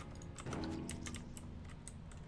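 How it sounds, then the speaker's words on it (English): Clicky keystrokes on a computer keyboard, quick irregular taps close to the microphone, fairly faint, with no talk over them. "Is my keyboard loud for you guys?"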